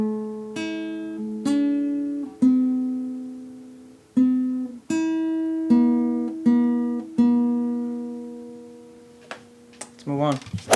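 Clean guitar plucks a melody as single notes, each ringing and decaying with gaps between, slow and moderately loud, ending with a brief scrape and a soft noise.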